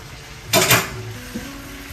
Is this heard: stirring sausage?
yes